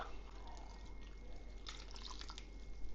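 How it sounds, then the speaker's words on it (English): One cup of beef broth is poured into a crockpot over gravy mix. It makes a quiet, brief splashing trickle in the middle of an otherwise still background. "we're going to pour 1 cup of beef broth over all that"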